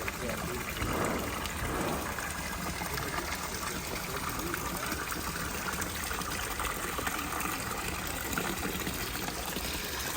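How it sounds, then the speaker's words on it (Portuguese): Water falls and splashes steadily beside a small wooden footbridge on a rural coffee-farm trail, a continuous close rushing wash with a voice speaking faintly beneath it. "Olha essa aqui com essa água caindo."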